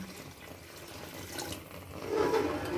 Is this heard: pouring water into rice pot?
yes